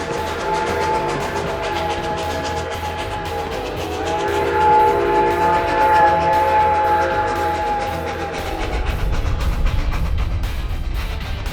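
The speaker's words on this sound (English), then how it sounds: "Engine 73 is quite a sight on her first test run of the season" Engine 73, a 70-year-old locomotive, hauls empty carriages on its first test run of the season. A loud, steady rumble carries sustained whistle-like tones, then heavier rhythmic rolling noise builds toward the end.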